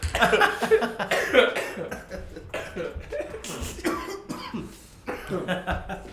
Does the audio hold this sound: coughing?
yes